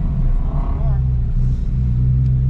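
Deep, loud engine rumble of a Porsche GT3 accelerating through an autocross run, low droning tone rising and holding, with speech over the top.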